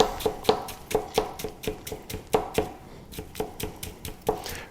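A knife push-chopping on a cutting board, a quick, steady run of crisp taps close up, with no one talking.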